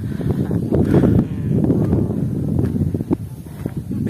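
Steady wind rushing and buffeting against the microphone outdoors at a highland resort, a continuous low roar with gusty swells throughout.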